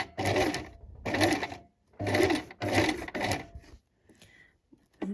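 Sewing machine stitching a piping seam on a dress, running in four steady bursts of even stitching separated by short pauses, then quieter handling and a final restart, close and with no talking.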